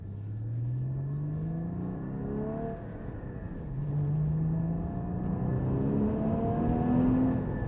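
A 2015 Porsche Cayman GT4 with sports exhaust in sport mode accelerating on a countryside road, engine revs climbing through gears with a brief lift between, loud and close inside the car.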